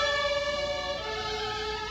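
A fire engine siren wails through morning traffic in Brussels, a loud sustained tone that drops in pitch partway through, with a low rumble of traffic underneath and no talking.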